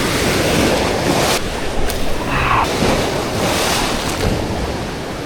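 Ocean surf breaks continuously on a North County San Diego beach, a loud, close wash of crashing waves and churning foam mixed with gusty wind, with no talking.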